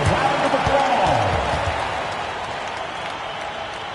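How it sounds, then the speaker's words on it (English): A basketball game crowd fills an arena with broad applause and cheering under an amplified announcer's voice, loud at first and then easing slightly as the clapping continues. "Give yourself a round of applause."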